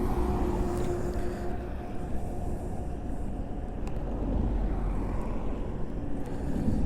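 A KTM Duke 250 motorcycle runs at speed, its engine and road rumble a steady, loud drone throughout, with no distinct gear changes standing out.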